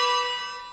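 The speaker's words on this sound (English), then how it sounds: "the space bar will ring the bell in the bottom right-hand corner" A single simulated handbell strike in Ringing Room online bell-ringing software, one clear bright metallic ring with sustained overtones slowly decaying, alone without voices.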